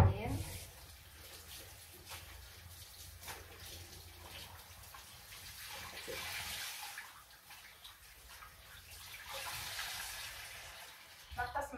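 Running water splashes steadily for about twelve seconds while a face is washed off with warm water at a sink, with faint rinsing surges and small drips, close by and fairly quiet.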